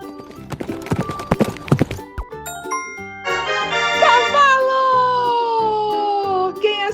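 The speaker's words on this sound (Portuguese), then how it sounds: "Cavalo!" Horse hooves clip-clop in a quick run of strikes, then a horse gives a loud, drawn-out neigh and whinny that falls in pitch, heard close and without talk.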